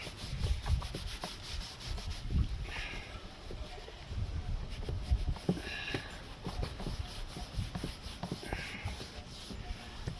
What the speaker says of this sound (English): right, this one I can really give it a good scrub.